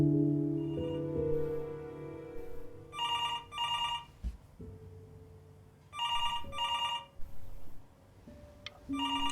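A telephone rings in the video game Before Your Eyes, several bursts of bright bell-like trills spaced apart with pauses between, heard over low game music and tones.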